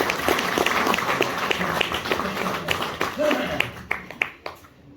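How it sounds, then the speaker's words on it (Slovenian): Clapping from the audience at a hunters' choir concert and CD presentation, fairly close and uneven, fading out near the end with voices audible underneath. "Še eno aplavz za Larisa, prosim"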